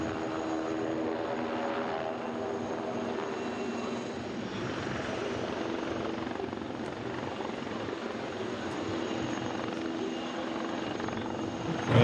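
A Tigre attack helicopter flies at an air show, with steady rotor and turbine noise that holds constant for twelve seconds, moderately loud and slightly distant, with no talk over it.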